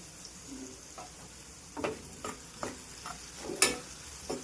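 Green chillies fry in a pan for lemon rice, a faint steady sizzle broken by a handful of sharp stirring clicks and scrapes as a spoon moves through the pan.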